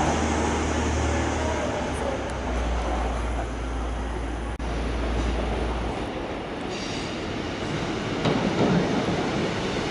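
A refurbished Class 185 diesel train at Huddersfield station, its engine rumbling steadily under station ambience, then the low drone fades as the train pulls away with wheel and rail noise.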